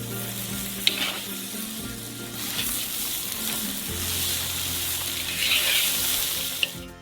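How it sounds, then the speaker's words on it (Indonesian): Steady sizzling and crackling of 3 kg of rice grains frying dry in a hot pan, with occasional light scraping from stirring, continuous and close. "Dan goreng hingga kering selama beberapa menit."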